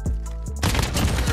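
Tracer-round gunfire in Call of Duty Modern Warfare: one sharp shot rings out, then a dense rapid automatic burst follows close and loud.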